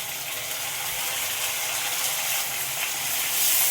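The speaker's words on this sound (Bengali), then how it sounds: "এবারে রসুন আদার পেস্টটা দিয়ে দেবো।" Garlic ginger paste sizzles in hot oil over fried onions, a steady hiss of frying that holds at an even level with faint crackles and no talk.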